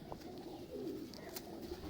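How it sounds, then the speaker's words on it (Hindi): Pet pigeons of a fancy breed coo softly in a loft, low murmuring calls under faint background noise. "इनके बड़े शानदार कबूतर हैं"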